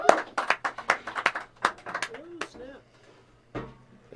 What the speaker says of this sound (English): Let's give a big round of applause to our next guest, Brandon Nealon from the Dragon Disc Golf Come Club.